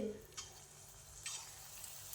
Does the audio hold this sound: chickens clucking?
no